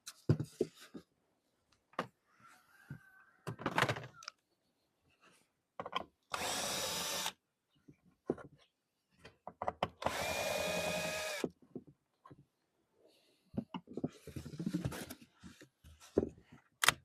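A power drill backs a screw out of an insert on a beehive pollen-collecting device in short bursts, two longer whirring runs standing out among clicks, handling knocks and quiet gaps.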